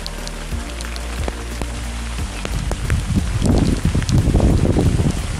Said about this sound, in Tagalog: Dito ay bumuhos na ang malakas na ulan kasabay ng malakas na hangin.